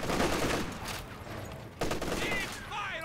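Units firing at maximum range in a Company of Heroes 2 battle: scattered bursts of gunfire crackle steadily, with a sharper burst about halfway through and a few faint whistling tones near the end.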